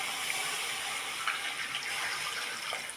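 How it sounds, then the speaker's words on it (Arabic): Warm water poured steadily into a pot of vegetables, chicken, onion and tomato for soup, a continuous close splashing rush that holds at an even level throughout. "هنزل عليها بميه دافيه"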